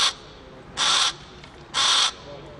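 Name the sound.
crows cawing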